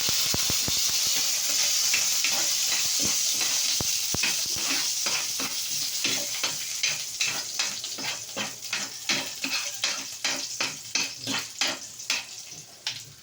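Garlic fries alone in hot cooking oil, a bright continuous sizzle that turns into a rapid series of crackling pops and spatters, close and fairly loud.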